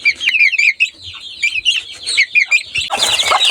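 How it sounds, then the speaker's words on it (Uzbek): Young May chicks and roosters chirp in a busy, continuous run of high, rapid peeps close by, ending in a burst of rustling scuffle. "mana bizning jo'jalarimiz yaxshi katta bo'lishyapti"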